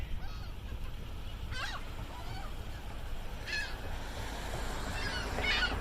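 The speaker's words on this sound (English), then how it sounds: "let's go out and feed some seagulls" Seagulls being fed with bird seed give three or four short, faint squawking calls spaced a couple of seconds apart, over a soft background wash of wind and water.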